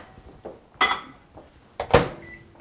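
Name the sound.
microwave oven softening stick of butter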